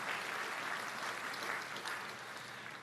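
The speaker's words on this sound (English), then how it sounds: "The faculty's applauding." Faculty at the Gettysburg College 2018 commencement ceremony applaud, a dense, steady patter of many hands that holds for about three seconds and tapers slightly at the end.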